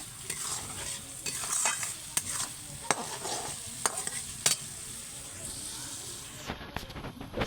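Spices sizzle while frying in a pan before meat is added, with a soft continuous hiss broken by sharp stirring clicks and scrapes, fairly quiet and close.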